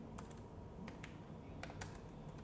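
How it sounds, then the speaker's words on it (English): Keys tapped on a computer keyboard while entering footer text in MS Word 2016, giving scattered quiet clicks at an irregular pace over a steady low hum, with no voices. "I'll type here a footer as MS Word"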